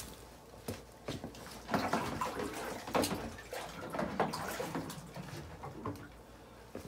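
Water pours from a watering can onto greenhouse fruit and vegetable plants, a steady soft splashing and pattering with slight surges, fairly quiet and without talk.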